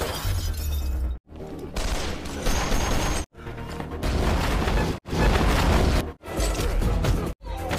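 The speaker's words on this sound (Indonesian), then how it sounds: "Adegan tembak-tembakan dan perkelahian pun terjadi." Bursts of gunfire and crashing impacts in a film action fight, loud and dense, broken by brief silent cuts between shots, with a low boom at the start.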